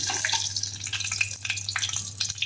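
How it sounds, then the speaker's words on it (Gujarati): Spices with asafoetida sizzle and crackle in hot oil for a Gujarati potato curry, a close, steady frying hiss with small pops and faint stirring, no voices. "સતળાઈ જાય એટલે આપણે એમાં થોડીક હિંગ એડ કરશું, અને સારી રીતે હલાવી લેશું"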